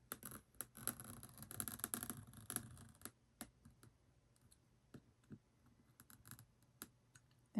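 A blade scoring lines into a traveler's notebook, slow faint scratchy strokes that are denser early and then thin out into sparse separate ticks and scrapes, close up with no voice.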